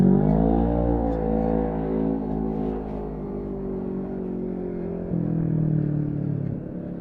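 The Kincrome Polaris off-road race car idles and revs at the finish line of the CanAm Loveday 400, a loud steady engine drone with layered harmonics that drops and then lifts again near the end.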